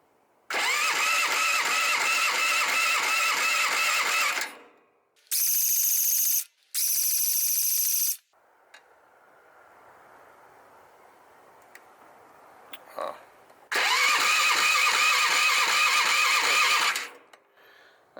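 Starter cranking on a Bobcat 310 skid steer's engine, loud sustained grinding churn in long bursts with short bursts between, a quieter idle-like hum in the middle, then another long cranking run; no talk.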